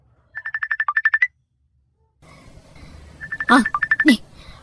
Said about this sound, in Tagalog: Adda umawag iti cellphone na.